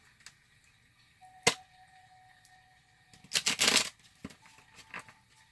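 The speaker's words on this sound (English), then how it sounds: "Let me shuffle these." Sparse tarot card handling: a single sharp snap, then a short dense burst of riffling shuffle and a couple of lighter taps, close and quiet.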